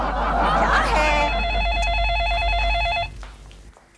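Telephone ringing indoors, a warbling electronic ring tone repeating for about two seconds over a low hum, then stopping abruptly.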